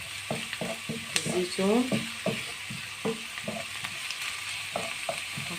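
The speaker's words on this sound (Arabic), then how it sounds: "نبقى هكذا تشحر لنا شويه" Peppers, chicken and parsley sautéing in a pan, a steady soft sizzle with repeated stirring clatters throughout, while a voice talks briefly over the cooking.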